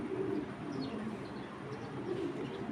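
A large, heavy-bodied female Mili pigeon gives low, soft cooing close by, a steady murmuring with a few brighter chirps faintly over it and no talking.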